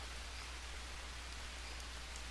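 Steady rain in the survival game Green Hell on Anaconda Island, a dense continuous hiss of falling drops with faint scattered patter, even and unbroken throughout and fairly quiet, with no voices.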